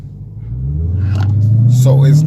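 Dodge Hellcat V8 idling and then building revs at a standstill while launch control is attempted, a deep rising rumble that swells steadily, heard from the cabin with someone talking over it.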